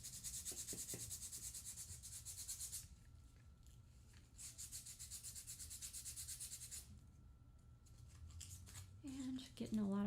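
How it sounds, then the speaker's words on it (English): Foam for a miniature castle roof frame is sanded smooth along a rough cut line, giving quiet rhythmic scratchy rubbing in two long bursts separated by a pause, with a voice near the end. "So now we have an ugly cut line that I'm going to sand smooth."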